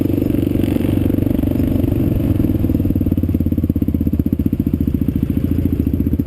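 A Kawasaki KLR650 dual-sport motorcycle rides along a dirt road, its single-cylinder engine thumping in a steady rapid pulse, loud and close throughout, with some rattle over the rough surface.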